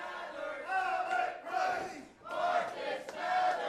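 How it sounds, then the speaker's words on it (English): Crowd noise at a live professional wrestling show, a broad sustained roar of cheering and yelling that swells and dips, with a brief lull near the middle before surging back. "Crowd really getting behind both of these."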